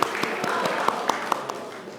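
Audience applause following a call for a round of applause, a dense wash of clapping with a few sharper individual claps standing out, steady and moderately loud across the whole stretch.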